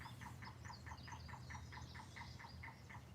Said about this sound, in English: I never heard that bird noise before